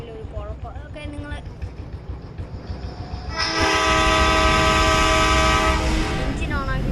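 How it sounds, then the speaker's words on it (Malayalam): A train in a mobile video game moving forward, with a loud horn blast sounding for several seconds over the rolling rail noise, while a voice talks briefly at the start and end. "ട്രെയിൻ മുമ്പോട്ട് പോകുന്നുണ്ട്."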